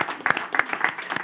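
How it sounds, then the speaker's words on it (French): Audience applause at a show, a fairly small crowd clapping in loose, uneven bursts, moderately loud and close, with no speech over it. "Ah ben, bravo, applaudissez-vous."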